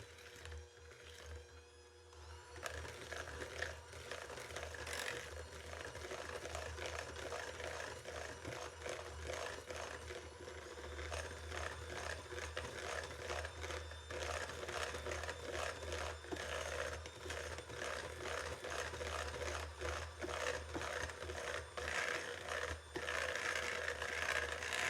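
An electric mixer beats egg and vanilla for nutty date drops, a steady quiet whirring with rattling, scraping texture throughout, played at low volume.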